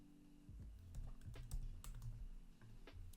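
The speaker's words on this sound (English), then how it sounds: "just type in last modified time" Keys tapped on a computer keyboard, a handful of quick clicks in an irregular rhythm, close and fairly soft over a low steady background hum.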